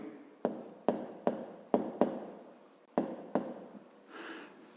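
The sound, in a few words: writing with a pen on paper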